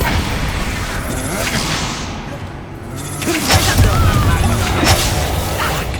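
Expulso explosion spell blasts in Hogwarts Legacy combat, a dense booming roar of layered impacts and whooshes filling the whole stretch, with a louder burst partway through and a voice shouting spell names amid the chaos.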